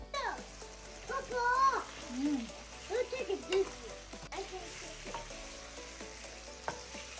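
Chicken sizzles and crackles in a pan with bursts of stirring, while a voice talks intermittently over the frying.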